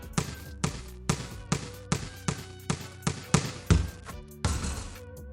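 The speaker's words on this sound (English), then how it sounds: "We got B-ball bouncing." A basketball bounces repeatedly at a steady, even dribbling rhythm, each thump close and distinct, with a low hum in the background.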